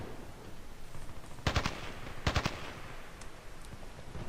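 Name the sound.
assault weapon gunfire in Battlefield Play4free video game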